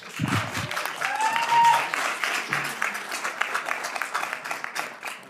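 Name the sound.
crowd cheering and applauding Rand Paul's speech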